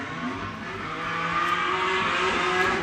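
A drift car in street-category practice slides after a handbrake initiation, engine roaring steadily with a sustained tire squeal building louder toward the end, no talk.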